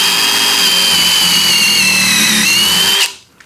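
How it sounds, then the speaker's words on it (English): A power drill bores a pilot hole in wood during a woodworking session, giving a loud, close, continuous high-pitched whine for about three seconds that then stops abruptly. "will you go ahead and give me a pilot hole drill?"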